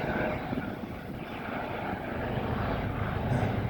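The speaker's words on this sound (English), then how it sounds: "I don't know if that is a truck or a plane. A helicopter." A helicopter drones overhead outdoors with passing road traffic, a steady broad engine and rotor rumble at moderate distance, continuous throughout with no talking.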